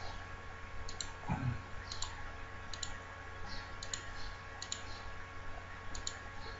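A computer mouse clicks repeatedly while editing in Photoshop: about nine quiet, crisp clicks spaced fairly evenly under a soft background hum.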